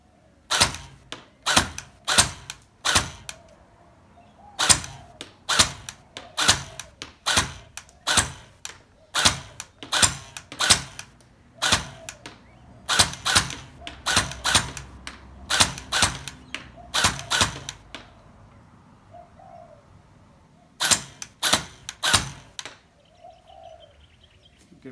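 A Well M4 airsoft rifle fires semi-auto on a 7.4 volt battery at about 20 metres, giving sharp single cracks in quick irregular strings with short gaps, close and loud with no talk.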